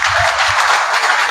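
A short burst of audience applause greets a guest speaker at a business event, a dense wash of clapping heard only briefly.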